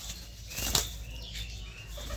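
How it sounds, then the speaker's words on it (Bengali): A female pigeon released into the air, its wings flapping in a brief burst of loud, fluttering beats near the listener before fading off. "তো মুশকি মাদিটা রিলিজ করি।"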